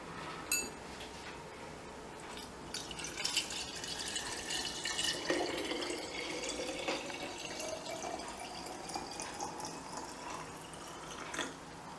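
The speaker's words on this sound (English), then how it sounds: "we're going to fill up the jar with some water." Water pours into a glass jar of fruit, a soft continuous trickle with the pitch rising as it fills and a few drips, fairly quiet and close.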